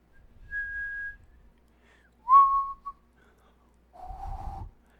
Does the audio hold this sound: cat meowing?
no